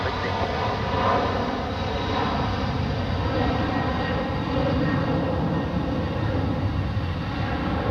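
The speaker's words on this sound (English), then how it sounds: "The black private jet is actually taxiing right underneath there." Jet engines drone loudly and steadily at Zurich Airport while a black private jet taxis nearby, a constant roar with a whining tone that holds without a break.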